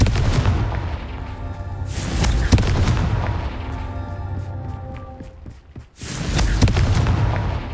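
Loud booming blasts from the Confringo fire spell in Hogwarts Legacy. Several heavy explosions land over a few seconds against rumbling game ambience, followed by a brief lull and another burst.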